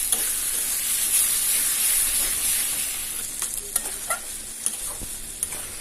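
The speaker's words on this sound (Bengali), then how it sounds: "চিনি দেওয়ার পরে আরও কিছুক্ষণ ধরে চাল কুমড়োটা রান্না করে নেব।" Ash gourd with sugar cooking in a pan for lemon-leaf shukto, a steady frying hiss that softens midway, followed by light scattered taps and scrapes of stirring close by.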